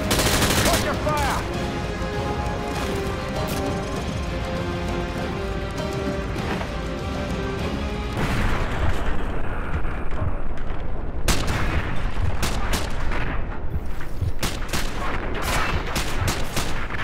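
Sustained gunfire from the Call of Duty Modern Warfare 2 campaign, with rapid automatic bursts and booming shots that build into a dense, loud barrage, with a sharp burst midway and continuing crackling fire.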